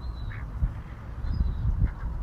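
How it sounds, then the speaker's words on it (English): Ducks in a grassy spot make a few soft quacks, one around the middle and another near the end, over low rumbling outdoor background noise. "Not impressed, are you, Mr. Duck?"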